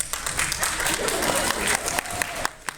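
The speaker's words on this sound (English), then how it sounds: "Zim smiles and claps." Hands clap in a continuous burst of applause that sounds like a small crowd, fairly loud and sustained, with a few sharp individual claps near the end as it tapers.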